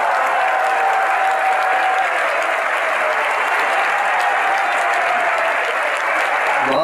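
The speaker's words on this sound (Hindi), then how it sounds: "यदि आप लोगों को अच्छा लग रहा है तो ताली बजाइए।" An audience bursts into sustained, even applause during a religious discourse at a Kundalpur Panchkalyanak festival, the dense clapping filling the hall loudly and steadily.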